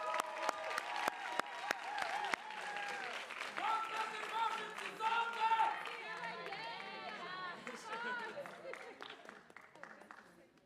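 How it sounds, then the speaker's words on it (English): A crowd applauds debate champions as they collect their trophy at an inter-municipality debate, the sharp clapping opening loud and dense, then fading under cheering, ululating voices and chatter that last to the end. "Let's give them a wonderful round of applause."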